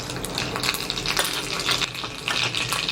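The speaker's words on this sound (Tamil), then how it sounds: "1 டீஸ்பூன் அளவில் கடுகு சேர்த்துக்கலாம்." Mustard seeds are dropped into hot oil for a sambar tempering. They crackle and sizzle steadily with dense popping bursts, close and fairly loud, with no voice.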